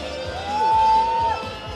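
Crowd noise swells at a Moscow fighting event, a broad murmur of cheering spectators rising to a peak mid-clip with a sustained whistle-like tone before easing off.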